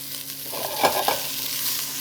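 Mushrooms and shallots sizzle in a hot pan while being stirred, a steady frying hiss broken by a couple of scraping stirs, close and without talk.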